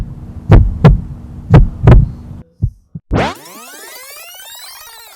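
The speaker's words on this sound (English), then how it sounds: "you hear your heart beating" Four deep, booming heartbeat thumps in two lub-dub pairs, then a couple of softer thuds before a rising whooshing boing sweep takes over.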